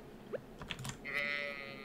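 A sheep bleats in the farming video game Stardew Valley Expanded, a short, clear, drawn-out call after a few soft clicks and taps.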